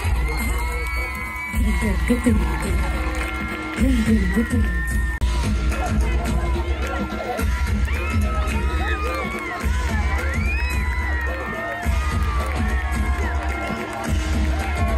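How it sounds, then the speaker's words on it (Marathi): A crowd at a Sanju Rathod live show in Pune claps and cheers loudly and continuously, with shouts, whoops and a sustained roar filling the space. "कमान जरा टाळ्यांचा पाऊस पडू द्या"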